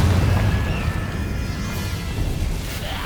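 The Confringo spell bursts in Hogwarts Legacy with a loud, rumbling boom whose deep roar fills the short moment and then slowly eases off, with no voices.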